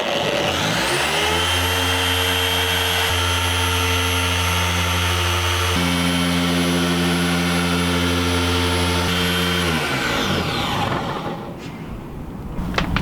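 An electric polishing machine spins steadily on the bonnet of an MX5, a loud continuous droning whir with stable tones that winds down and cuts off near the end.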